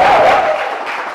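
A studio audience at a quiz show claps and cheers, loud dense applause with a brief raised shout at the start, fading slightly as it goes on.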